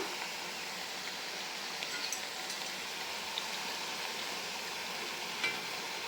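Chekkalu rice snacks deep frying in hot oil give a steady, fairly quiet broadband sizzle and bubbling hiss that runs continuously with only small crackles, no voices.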